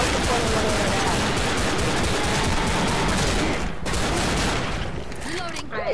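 Dense pistol fire in Left 4 Dead, rapid overlapping shots forming a continuous loud barrage that eases slightly toward the end, with players talking over the gunfire.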